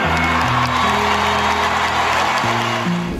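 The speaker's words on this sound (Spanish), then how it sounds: "¡Un fuerte aplauso, por favor!" Steady applause and crowd cheering at a concert fill the clip, with sustained tonal music playing loudly underneath.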